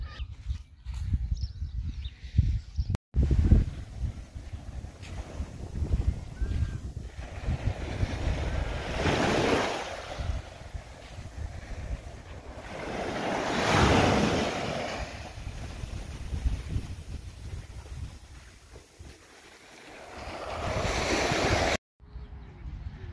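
Waves break on a sandy beach at Pentewan Sands in Cornwall in March, a steady roar of surf that swells in slow surges, with heavy wind buffeting the microphone throughout.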